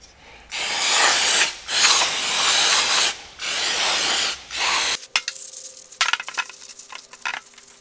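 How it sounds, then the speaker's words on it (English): Ordinary brake cleaner sprays from an aerosol can onto a Subaru center differential washer in several loud, close hissing bursts. Light metallic clicks and handling noises follow. "I just use ordinary brake cleaner."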